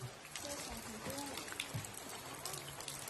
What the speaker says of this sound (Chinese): 从昨天半夜4点钟到现在，这个雨没有停过，这会儿雨还小了。